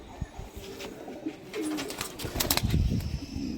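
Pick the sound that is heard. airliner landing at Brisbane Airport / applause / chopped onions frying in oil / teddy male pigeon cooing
teddy male pigeon cooing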